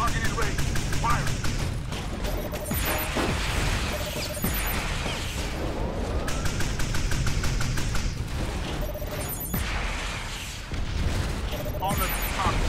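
Rapid game gunfire from Transformers: Revenge of the Fallen, a steady barrage of loud mechanical shots and booms under a voice speaking and game effects throughout.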